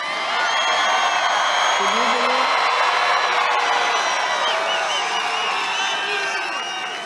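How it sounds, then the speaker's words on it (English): A large crowd at a Donald Trump rally in Texas roars and cheers continuously, a dense wash of whoops and shouts that stays loud throughout. "Do you hear that crowd back there?"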